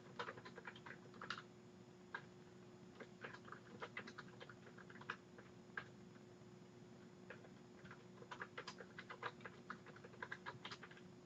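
Quiet, steady clicking of keys on a computer keyboard, irregular taps in quick bursts over a low background hum.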